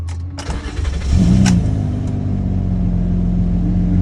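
A Honda Accord engine cranks briefly, catches, and settles into a steady idle, with a few clicks at the start and no talking.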